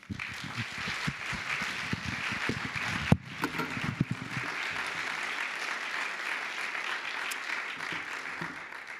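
An auditorium audience applauds to welcome lecturer Andy Crouch, a dense, steady wash of clapping from many hands that carries on for several seconds at an even level after a brief sharp knock.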